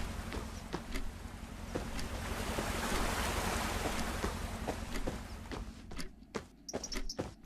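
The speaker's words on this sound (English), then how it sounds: "nice sort of waterfall noise there" Game sound design with a waterfall effect: a broad, steady rushing wash of water that swells in the middle, with sharp clicks and footstep-like taps standing out toward the end.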